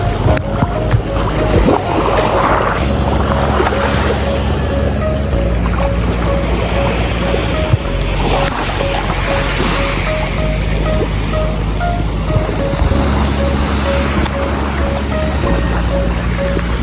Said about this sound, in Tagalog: Ito na tayo dito sa dagat.